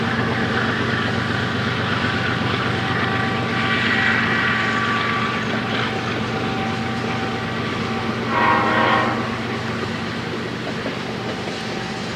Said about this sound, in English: Very nice to see that smoke from the locomotives coming out like that.